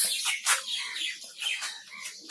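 Rapid, high chattering chirps from a budgerigar, continuous and close, with quick warbling notes running together.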